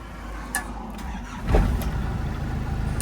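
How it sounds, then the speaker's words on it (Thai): A 1999 Isuzu Dragon Eye SLX cab pickup with a 2.8 diesel turbo engine starting: a few faint clicks, then a single cranking burst as it catches, settling into a steady, rumbling diesel idle nearby. "เดี๋ยวมาฟังเสียงเครื่องนะ ติดเครื่องให้ดู"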